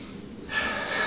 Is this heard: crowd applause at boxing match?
no